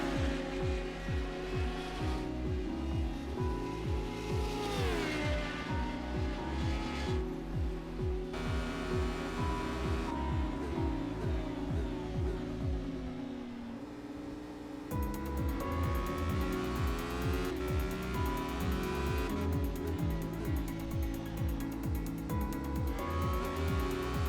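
Race car in a racing video game accelerating hard up a hill after a corner, its engine droning loud and steady with rising harmonic revs and gear changes throughout, a brief dip near the middle before climbing again.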